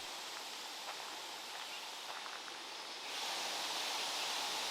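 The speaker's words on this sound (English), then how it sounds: "the soothing white noise of the aspen leaves blowing in the wind" Aspen leaves rustle steadily in the wind in a forest on the Moss Lake loop, a soft broadband hiss like white noise that swells slightly louder near the end, with no voices.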